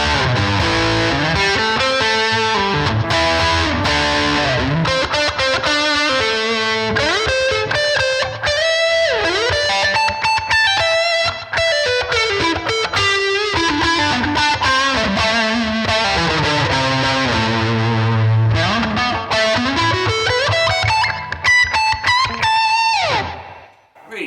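An electric guitar with series/parallel pickup switching and new strings plays a distorted, sustained singing lead tone in continuous, busy phrases with bends and slides, loud and close throughout, with no talking.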